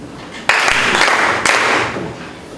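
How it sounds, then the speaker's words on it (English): A room of people bursts into applause for a contest winner, a sudden burst of clapping that swells twice and then thins out, close and fairly loud with no talking. "Just clap for number 2."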